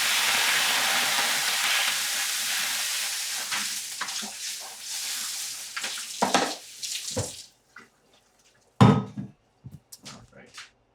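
Tap water runs steadily and loud over fresh parsley and garlic being rinsed in a kitchen sink, then cuts off, leaving a few short clatters and splashes near the end.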